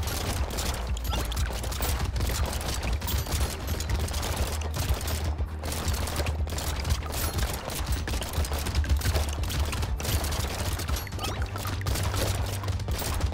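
The dragon gun in the video game Brotato fires in rapid bursts, crackling repeated shots mixed with busy game effects and a constant low hum, steady for over thirteen seconds with no talk.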